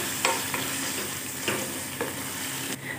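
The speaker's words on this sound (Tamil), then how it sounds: "வெங்காயம் சேர்த்து பார்த்தீங்கன்னா நல்லா வதக்கிக்கலாம்." Chopped onions sizzle steadily in a hot pan for a vegetarian kuzhambu curry, with a few soft stirring scrapes over a constant close frying hiss.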